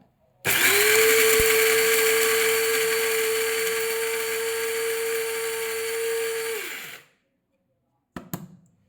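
An electric grinder running at close range, grinding something into powder: a loud, steady whine that starts abruptly, holds for about six seconds, then winds down and stops, followed by a couple of brief clicks.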